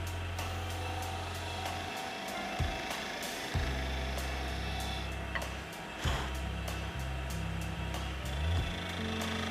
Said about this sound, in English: And we'll just put a couple of cleaning cuts with the carbide just in here.